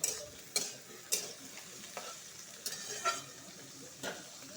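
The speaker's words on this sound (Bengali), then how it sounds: "পেঁয়াজের সাথে মিষ্টি কুমড়াটা ভালো করে ভাজবো" Pumpkin pieces frying with onions in a pan, a soft steady sizzle broken by about half a dozen sharp scraping strokes of a spoon stirring, close and quiet.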